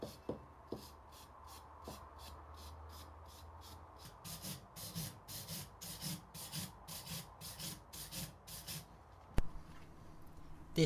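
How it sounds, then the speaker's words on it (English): A wire brush scrubs surface rust from the wheel of a small steam traction engine, a rhythmic series of close, scratchy back-and-forth strokes that quicken and grow steadier after a few seconds of quieter handling. "I'm just going to give them a quick wipe over and then a wire brush and a brush with the pad"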